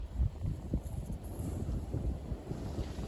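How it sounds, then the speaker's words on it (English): Gusty wind buffets a microphone outdoors, a steady low rumble with irregular thumps and swells throughout and no voice audible. "You probably can't even hear me with the wind"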